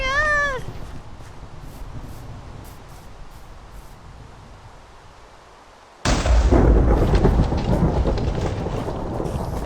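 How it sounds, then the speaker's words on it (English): Thunder from a lightning storm in Minecraft: after a brief meow-like cry and a low, fading rumble, a sudden loud crack bursts in and rolls on as a heavy, sustained roar. "The lightning's scary!"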